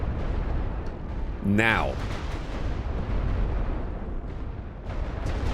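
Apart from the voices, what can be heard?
rolling artillery barrage explosions in a war video game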